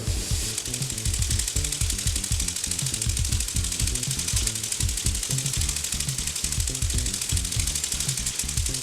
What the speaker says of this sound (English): just barely turn the throttle on here and give it a test spin